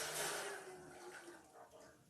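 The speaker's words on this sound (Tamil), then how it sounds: "வடிகட்டின வெல்லத்தை ஊற்றிடலாம்" Filtered jaggery syrup for a Tamil coconut milk payasam pours into a vessel as a soft, continuous liquid splash. It is quiet, close and fades gently over a couple of seconds.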